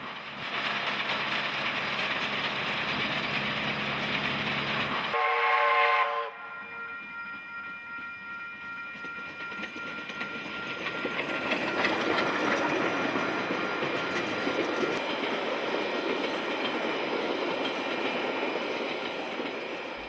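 A steam locomotive working hard on straight track beside a road, heritage excursion behind J1211: loud rumbling chuff and rolling train noise throughout, with a whistle sounding briefly around the middle before the passing rumble resumes.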